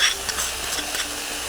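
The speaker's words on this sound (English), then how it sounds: "Oh wow. Listen to that sizzle." Sauce sizzles in a hot pan, a bright hissing crackle with a faint scrape of stirring, brief and close.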